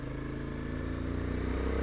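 Suzuki V-Strom 1050DE motorcycle engine droning steadily while riding, a close, continuous mid-loud hum that builds slightly toward the end, with no talking over it.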